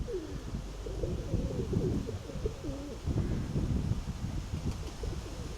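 Pigeons coo nearby in soft, repeated, throaty rolling calls that overlap one another, over a faint breezy background.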